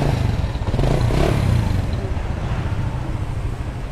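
A 2004 Vietnamese-made Honda Dream motorcycle with an aftermarket exhaust, started up and running: the engine catches and then idles with a low, close-up throbbing putter.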